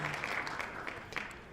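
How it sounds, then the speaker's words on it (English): Faint, brief applause rises under a quiet room tone, a thin scattering of claps at a distance lasting barely over a second. "Love the applause."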